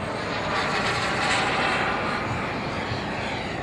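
Aircraft engines roar at a 2015 jet airshow in Kentucky, a loud, steady, broadband rush that swells slightly midway and holds unbroken with no voices over it.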